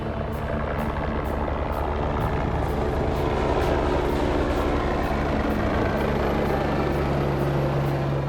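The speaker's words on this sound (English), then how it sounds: "As quickly as that helicopter gets down, we can get the patients onto the trolley and down into A&E." A helicopter comes down onto the rooftop helipad at Royal Derby Hospital, its engine roar and thudding rotor blades loud, close and steady throughout with no talking.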